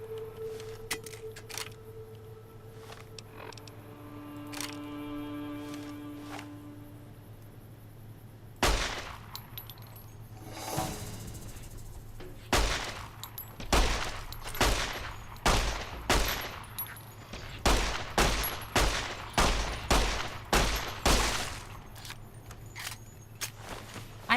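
9mm pistol gunshots in the video game Fallout: New Vegas: after a quieter stretch with a single crack, a rapid run of loud, close shots fires one after another in an uneven rhythm.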